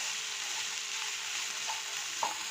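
Broccoli frying with poppy seeds as it is stirred in a pan: a steady close sizzle with soft scraping touches and a sharper clink near the end.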